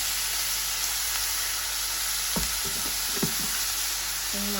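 Steady sizzling hiss of food sautéing and frying in a pan during home cooking, with a few soft clinks and stirring scrapes over the constant frying noise.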